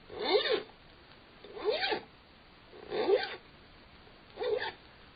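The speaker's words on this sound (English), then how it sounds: "The sound you hear is that of a man having his right hand hook filed." A radio drama sound effect of a metal hook being filed on a man's hand: four separate rasping strokes, evenly spaced and moderately loud, with no talk.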